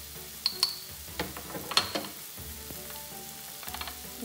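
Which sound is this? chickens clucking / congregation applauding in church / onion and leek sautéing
onion and leek sautéing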